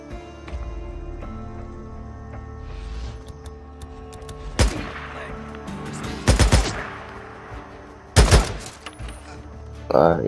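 Suppressed gunfire from the Days Gone video game, with a fight against a horde: muffled shots come in sharp bursts over a steady game background, getting louder and denser toward the end.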